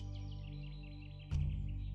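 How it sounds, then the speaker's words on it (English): Soft birdsong chirps drift faintly through a sustained, low ambient music drone in a calm guided meditation, with a brief louder swell near the end. "The sound of the birds in the clear blue sky"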